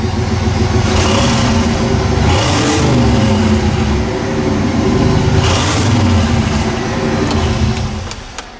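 A turbocharged LS-engined stick-shift OBS Chevy pickup revs hard and steadily up close, its deep roar swelling and easing several times before winding down; transmission sounds bad.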